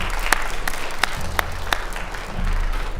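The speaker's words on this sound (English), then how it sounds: "One more round of applause for Oscar Zazens." Audience applause after a solo performance at a high school percussion concert, a steady wash of clapping through the whole stretch with a few sharper individual claps standing out.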